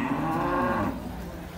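One long, low moo from a dairy cow at a livestock market, close and clear, fading out partway through against quiet ambient noise.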